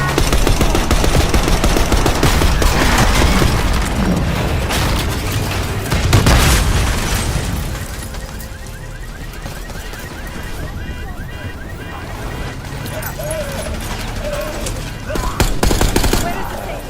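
Dense Call of Duty Black Ops 6 campaign gunfire during a street chase after a limo, loud continuous automatic fire with booming hits that thins out midway, then picks up again briefly, under shouted voices.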